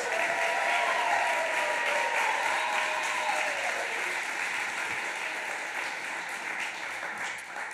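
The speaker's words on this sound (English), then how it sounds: "giving everyone in the room a big round of applause" Sustained applause from an audience at a short film festival, a dense wash of clapping that holds steady and slowly fades slightly.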